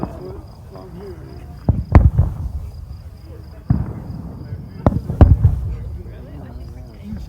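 Several sharp booms from fireworks burst at intervals, some in quick pairs, with soft murmuring voices and a faint high hiss between them.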